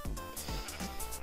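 A sheep bleats in Minecraft, short wavering nasal calls repeated in quick succession, close and fairly clear.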